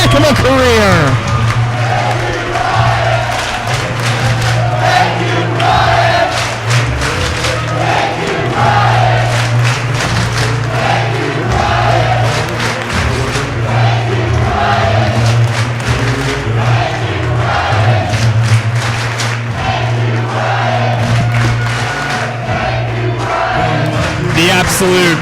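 A loud wrestling crowd at an event in Oskaloosa, Iowa roars and cheers steadily, with shouting and scattered clapping throughout, a dense continuous wall of voices and a low hum underneath.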